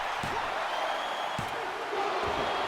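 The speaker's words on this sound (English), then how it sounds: "You can hear the crowd chanting tag team wrestling." A dense, constant roar from the arena crowd in the WWE 2K24 wrestling video game fills a tag team match, punctuated by a few dull thuds from the ring.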